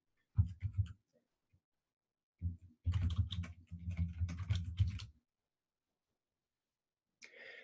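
Keys clack on a split computer keyboard made of two separate pieces, a short burst of typing, a pause, then a longer run of close, quiet keystrokes.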